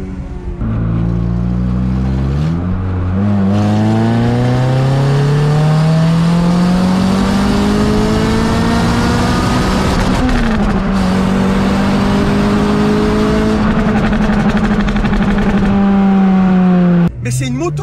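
A Renault Clio 3 RS Cup engine revs hard toward 8000 rpm, its pitch climbing steadily and loud from inside the car, with a brief dip around a gear change and voices talking over it.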